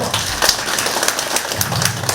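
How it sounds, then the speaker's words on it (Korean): A crowd applauding at a town residents' gathering in Pungsan, Andong, South Korea, continuous dense clapping at moderate loudness for a couple of seconds. "여러분 박수 한번 주시죠."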